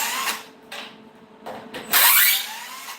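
Power tool driving screws on a 50 CFM single-phase compressor build, short loud whirring bursts with pauses between them, the last burst the loudest.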